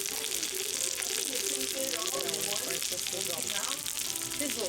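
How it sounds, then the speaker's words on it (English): Steady, loud hiss and crackle of food sizzling on a hot plate, with voices talking over it. "It comes out sizzling like this, y'all. It's sizzling hot."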